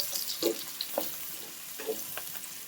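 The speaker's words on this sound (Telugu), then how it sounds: "మాడకుండా అటు ఇటు కలిపితే మంచిగా ఫ్రై చేసుకోండి ఇట్లా" Sliced onions for veg biryani fry in oil with a soft, continuous sizzle, broken by a few light stirring scrapes as they are turned over.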